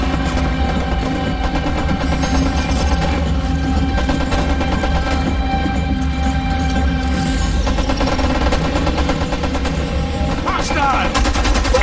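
Rapid gunfire from the shooter Homefront: The Revolution, dense bursts of automatic weapons with booming impacts, loud and sustained, with voices talking over parts of the combat.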